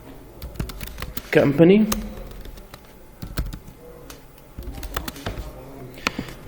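Clicky keys on a computer keyboard tap in irregular bursts as a heading is typed, close and moderately loud, with someone speaking briefly over the typing.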